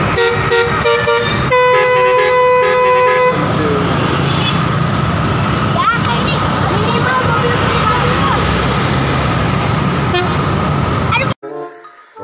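A Persija Jakarta bus blasts a loud air horn, starting with tonal honks that shift pitch, followed by a long sustained blare mixed with engine and roadway noise, then a brief pause and a final short note.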